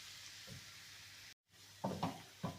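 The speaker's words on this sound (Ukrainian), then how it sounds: "Ще одну хвилинку їх так просмажу" Varenyky (dumplings) frying in a pan, a faint, steady sizzle with a few louder bursts of stirring and clatter near the end and a brief dropout in the middle.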